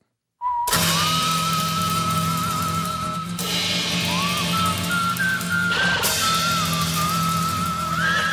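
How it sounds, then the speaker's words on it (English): A sustained, tuneful whistle line runs steadily over a low hum for about eight seconds, with brief breaks near the third and sixth seconds, loud and close in the preview for an animated space western series. "He came with a whistle."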